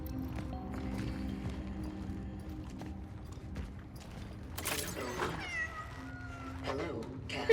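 A cat meowing in the horror video game Cronos: The New Dawn, several drawn-out meows near the end over a low game ambience, with a voice speaking through the clip.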